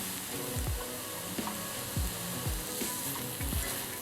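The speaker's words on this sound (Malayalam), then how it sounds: "ഇനി തുറന്ന് ഇതൊന്നും കൂടി ഇളക്കി കൊടുക്കാം" Mixed vegetable thoran sizzles in a hot pan while a spoon stirs it, producing repeated low scraping strokes roughly every half second over a steady, close frying hiss, with no talk.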